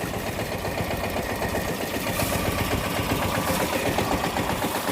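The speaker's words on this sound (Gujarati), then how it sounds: "આમ જોવો આ કેવી રીતે ટ્રેક્ટર લઈને જાય હી" A tractor engine runs hard during a soybean harvest, a loud, dense, pulsing rumble that fills the whole stretch without any talking.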